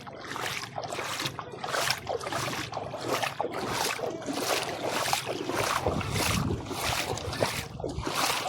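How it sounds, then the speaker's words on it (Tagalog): A boat moves across the water with rhythmic sloshing and splashing, steady and fairly close, with wind noise and no talking. "Yung bangka natin, andun na naman."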